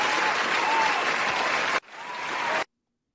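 Dense crowd applause, steady and full for almost two seconds, a brief break, then another burst that cuts off abruptly into silence.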